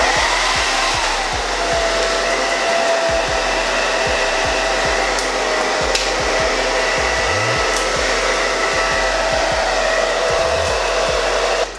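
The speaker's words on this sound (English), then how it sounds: "we're gonna get the blow dryer again and kind of blast those sides" A blow dryer blasts steadily at close range against the sides of a wig, a loud continuous rushing whoosh that holds for about twelve seconds with no talking.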